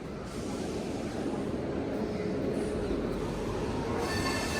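A small train engine rumbling steadily along the rails, a continuous loud roar with faint metallic squeals, no voices.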